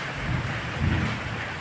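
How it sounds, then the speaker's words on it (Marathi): Heavy rain with thunder: a constant rain hiss with deep rumbles of thunder swelling twice beneath it, somewhat distant and subdued, with no voices. "हा मोठा पाऊस येतोय ना."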